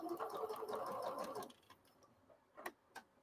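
A sewing machine stitches steadily for about a second and a half, then stops, followed by a few brief clicks from a back-stitch button with no pedal running.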